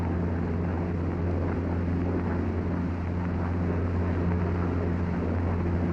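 P-47 fighter plane taking off in 1943, a loud continuous propeller engine drone with steady low tonal hum and wind roar, sustained and unchanging with no talk.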